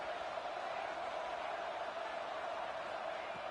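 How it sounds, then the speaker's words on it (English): A steady, distant roar from a packed college football stadium crowd at an Ohio State game, a constant wash of noise with no breaks, fairly faint and without any talking. "wow, listen to this crowd noise"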